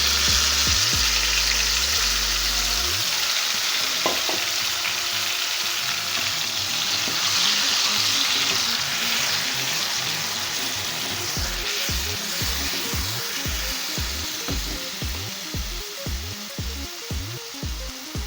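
Spice paste fries in a hot pan for an aloo anda curry, giving a loud continuous sizzle with stirring scrapes and crackles throughout, gradually settling toward the end.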